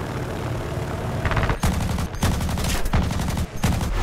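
Loud rapid bursts of nose-mounted aircraft cannon fire in War Thunder, rattling in long strings with brief pauses between them over a constant engine roar.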